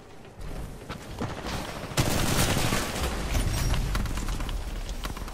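Sustained gunfire in the video game Titanfall 2 multiplayer, dense rapid automatic shots and bursts blending into a loud continuous barrage.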